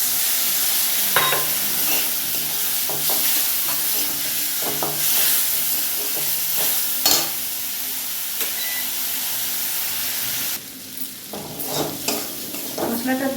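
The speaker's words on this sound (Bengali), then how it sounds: "মশলাটা দিয়ে নেড়ে চেড়ে কষিয়ে নিয়েছি" Spice paste of green chilli, turmeric and cumin with a little water sizzles loudly in a pan while being stirred, steady frying with intermittent scraping and clanks, then the hiss drops partway through.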